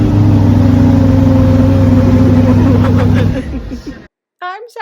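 A car engine turns over and revs with a steady, loud hum, then cuts off abruptly, followed by a brief high squeak.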